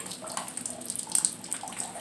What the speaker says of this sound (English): we want the water to drain out as much as we can